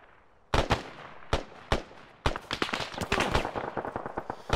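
Gunfire in the ARMA 3 military game, a string of sharp loud shots, a few spaced single cracks then a rapid volley of overlapping bursts.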